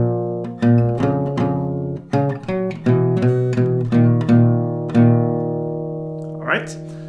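Slow acoustic guitar melody from a song, single plucked notes ringing out with sustained harmonics in a steady, unhurried rhythm, close and clear with no voice.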